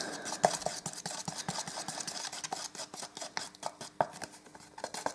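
Small scraping and tapping strokes as tattoo ink drops are mixed into a dollop for an inlay, a steady irregular patter of close, quiet rubbing and clicks with no voice.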